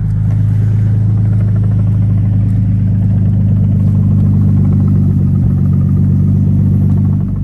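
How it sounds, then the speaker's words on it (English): Twin-turbo Nissan 370Z Roadster idling loudly with a deep, steady exhaust rumble close by, holding a constant drone with a slight dip near the end and no talking. "Listen to that exhaust."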